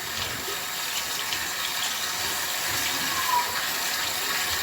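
Washed anchovies left draining while tap water runs into a sink, a steady continuous gush of water heard close and fairly quiet, without any talk.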